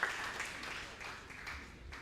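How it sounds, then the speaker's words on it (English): An audience applauds a school debate team at a national high school debate final, a faint, brief patter of clapping from a distance. "Congratulations and a round of applause for the team."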